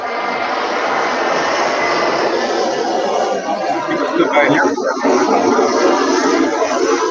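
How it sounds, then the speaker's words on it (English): Airplanes flying low overhead near an airport, a steady loud broadband engine roar that holds through the whole stretch, with faint chatter underneath. "Airplanes going over."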